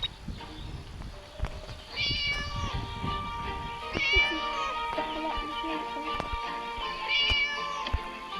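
A cat meows repeatedly in a stairwell, its cries rising and falling over a steady background hum and occasional knocks, moderately close.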